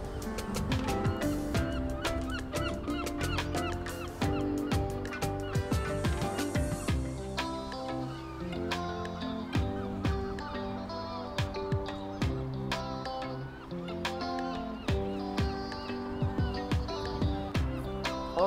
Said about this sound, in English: now I know why the birds are flying around like this